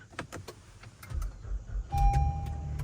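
An Acura MDX engine cranks and starts after a battery replacement. A brief mechanical clatter gives way to a steady, close idle hum with a faint high whine over it.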